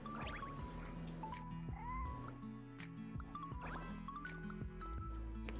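A video game cat meows and caterwauls several times, with rising and falling cries over a soft game background and faint squishy sounds.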